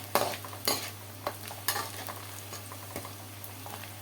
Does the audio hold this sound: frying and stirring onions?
yes